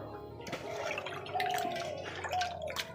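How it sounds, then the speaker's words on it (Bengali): Raw chicken meat being washed in water for pakoras, running water splashing and dripping in a kitchen, close and fairly loud. "এবার মাংসটা ধুয়ে নেবো ভালো করে"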